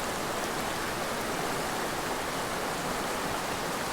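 Small mountain creek running beside a roadside pull-off, a steady broadband rush of flowing water filling the scene continuously, close and even, with no voices.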